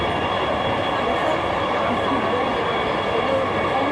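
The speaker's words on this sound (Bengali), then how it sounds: "এই যে আরেকটা ট্রেন যাইতেছে আমাদের ক্রস করে।" Metro train rolling past close by, a steady loud rumble and rail roar filling the clip without a break, with no clear speech over it.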